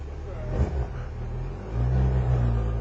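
A 2008 Yamaha FZ1 motorcycle engine rumbles low and close, with a brief rev early on before the revs rise and hold as the bike pulls away.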